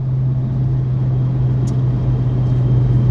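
Steady, loud low rumble of a 750 whp Whipple supercharged Dodge Challenger 392 V8, a constant droning hum throughout with no voices.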